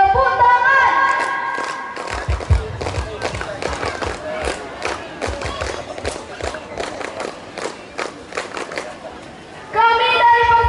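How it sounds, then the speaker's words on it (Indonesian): Children and teens at a church youth gathering clap hands in rhythm, many sharp, evenly spaced claps with voices shouting and chanting along, and music swelling at the start and end. "tepuk tangan."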